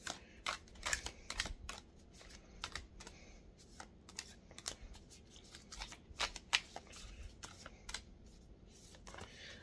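Oracle cards being shuffled and drawn, with soft papery riffles and brisk slapping snaps coming in quick, irregular bursts, close and fairly quiet, with no voice.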